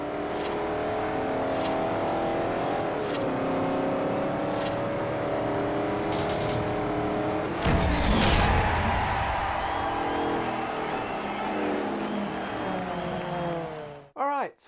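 Car engines in the racing game Forza Horizon whine and rev at high speed with changing pitch. A loud rush and whoosh cuts in partway through.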